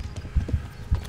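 Horse hooves in the medieval video game Kingdom Come: Deliverance give a brisk, uneven clip-clop of dull thuds, close and fairly loud, as the horse fails to reach a gallop.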